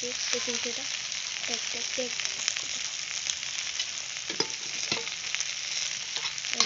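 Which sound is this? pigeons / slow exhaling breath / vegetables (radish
vegetables (radish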